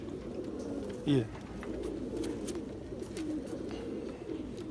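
Rampur breed pigeons cooing softly, one clearer burst of cooing standing out near the start against a steady low murmur of other birds, with a brief voice speaking.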